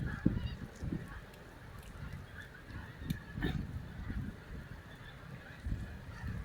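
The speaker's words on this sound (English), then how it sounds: "Can you hear the geese?" A large flock of geese honking in the distance in England in December, faint overlapping calls that keep going and swell now and then, with no talking.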